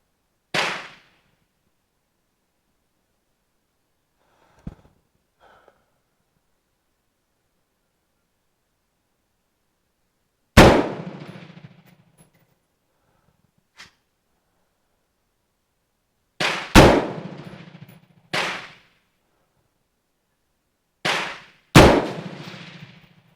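Sharp gunshots from a Colt M4 rifle fired at paper targets, about six loud cracks spaced irregularly over twenty seconds, each with a short ringing tail, plus a few faint clicks and handling sounds between shots.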